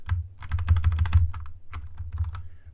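Computer keyboard keys tapped in quick, steady bursts of close clicks, with a brief pause partway through, no voices present.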